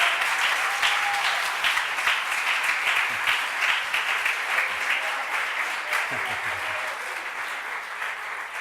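A church congregation claps for the Lord during a sermon, a sustained, dense wave of applause filling the room and holding steady throughout.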